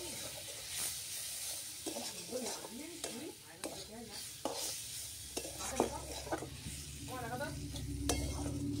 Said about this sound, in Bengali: মশলাটা কষিয়ে নেবো সুন্দর করে।